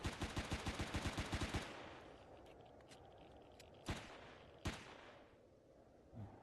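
A standard pistol fired in the video game Empyrion Galactic Survival: a rapid string of about ten sharp shots, then two isolated cracks a little apart, each with a short echoing tail against a quiet background.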